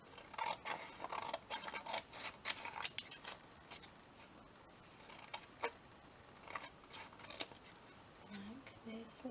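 Scissors snip around scrap paper in a series of quick, faint, close cuts, with small rustles and a brief voice near the end.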